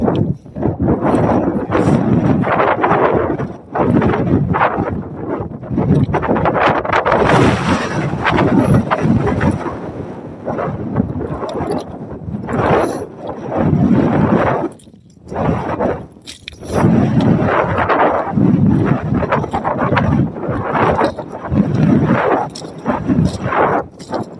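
Wind blows hard over a mountain summit on Grays and Torreys Peaks. Loud, gusty buffeting roars against the microphone almost continuously, with a few brief lulls.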